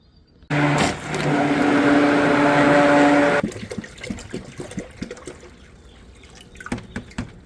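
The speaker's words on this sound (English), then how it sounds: "I'm just waiting for the water to finish processing through because we have a filtration system here." Water from a home filtration system pours loudly and steadily for about three seconds, then cuts off abruptly, leaving scattered drips and light knocks as it is gathered for a bacon brine.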